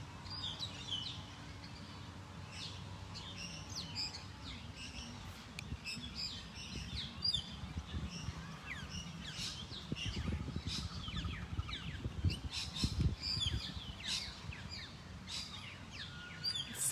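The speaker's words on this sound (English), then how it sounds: "If you listen carefully, you should be able to hear the birds." Birds chirp and sing in a grassy park, repeated short tweets and calls scattered over a steady low background of distant traffic and ambient noise.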